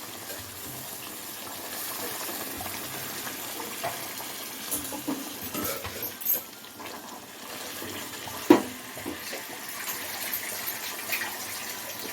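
Water poured in a steady stream into roasted semolina (rava) cooking in a pan, a soft continuous gush with a few faint clinks, moderately close and without any talk.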